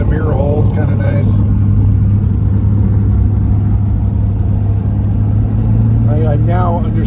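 Belly Tanker jet mobile, a barn-find car, rumbles along at a steady, loud cruise with a constant low engine drone and wind noise, a voice talking briefly over it.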